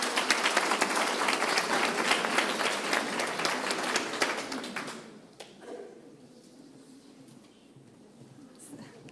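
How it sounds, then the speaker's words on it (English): A conference audience at a Bhutan meditation event gives the speakers a dense round of applause that fades after about five seconds, leaving quiet room tone with faint scattered sounds. "let's give the speakers today another round of applause,"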